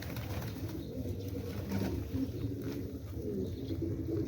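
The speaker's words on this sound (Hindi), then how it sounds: "कबूतरें आ जाते हैं।" Pet pigeons coo steadily close by in a coop, soft repeated low calls continuing throughout with no talking over them.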